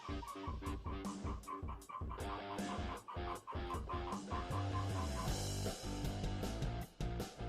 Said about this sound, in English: all the chickens are going nuts